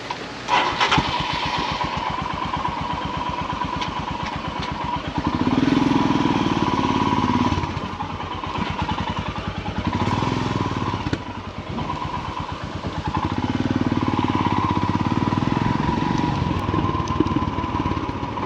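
Motorbike engine firing up and running with an uneven, clattery beat, rising and falling in loudness as it revs and idles nearby for the whole stretch, no talking over it.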